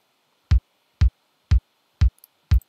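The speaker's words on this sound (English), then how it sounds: "I have this other track here that I'm gonna drag over a line of kick drums that sound like this" Five evenly spaced kick drum hits from a music production track, punchy and deep, about half a second apart with silence between, alone with no voice.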